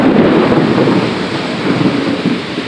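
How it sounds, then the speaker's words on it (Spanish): Heavy, steady rain pours down on a New York street in Chinatown, a loud, continuous roar with a low rumbling undertone, constant throughout with no voices. "Aguacero bien fuerte."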